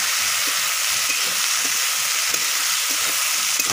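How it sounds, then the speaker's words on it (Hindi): Pieces of pre-cooked cluster fig (gular) fruit frying in a pan for a vegetable dish, giving a steady, close sizzle with small crackles and pops throughout, no voices. "ये देखिए डाल दिए जो गुलर का फल जो काट के सिझाए थे"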